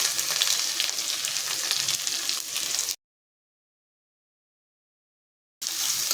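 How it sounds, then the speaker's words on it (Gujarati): Cumin, curry leaves and ginger-garlic-chili paste sizzle loudly in hot oil, a close, continuous frying hiss that cuts out abruptly and returns. "બધું જ આપણે સારી રીતે સાતડી લઈશું।"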